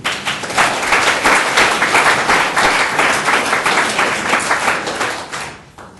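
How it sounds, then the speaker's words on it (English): Loud, dense applause from a live audience at a comedy storytelling evening, a sustained wash of many hands clapping that holds steady for several seconds before tapering off at the end. "a round of applause for Davin"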